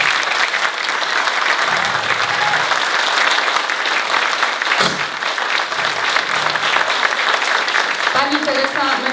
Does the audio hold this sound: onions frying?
no